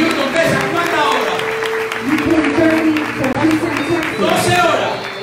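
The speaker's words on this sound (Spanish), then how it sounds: "Denle otro aplauso a Jesús" Applause for Jesus rising from a congregation at a Spanish-language revival church service, a steady wash of clapping heard under a preacher's voice and music throughout.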